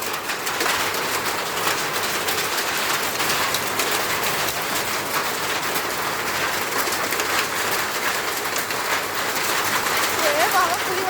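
Rain and hail come down in a hot-season storm as a dense, steady patter and hiss. A voice and a faint bird call come through near the end.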